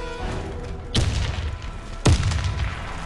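Two heavy booms from grenade blasts in the Warface shooter during clan PvP play, each a sharp loud thud with a rumbling tail, about a second apart over steady game background noise.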